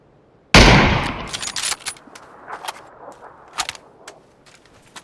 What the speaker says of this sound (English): the sound of the gunshots catches his attention towards that side